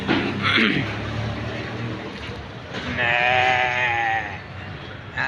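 Sheep and goats bleat repeatedly at a livestock market in Medina, Saudi Arabia, with one loud, drawn-out bleat standing out near by over crowd murmur and people talking.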